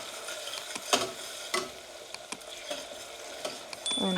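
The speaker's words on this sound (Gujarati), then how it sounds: "હવે આપણે થોડીક એવી હળદર નાખી દઈએ અને મિક્સ કરી દઈએ" Tomatoes and green chillies frying with turmeric in a pan, a soft steady sizzle punctuated by several sharp spoon knocks and scrapes against the pan as the mixture is stirred, close and quiet.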